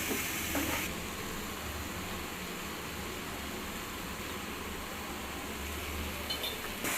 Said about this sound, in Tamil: சேர்த்து நல்லா வணக்குங்க.